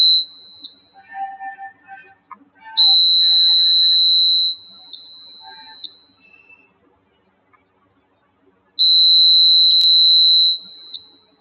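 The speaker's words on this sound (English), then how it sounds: "whenever I am creating an object in front of the IR sensor, it is beeping" Electronic buzzer triggered by a Raspberry Pi IR sensor beeps in long steady tones, two sustained beeps separated by a pause, with faint handling noises in between.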